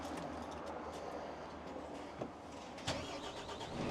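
A MAN tractor unit being converted to a dump truck, its diesel engine starting up and settling into a low idle with a couple of brief clunks and air hisses, close and steady.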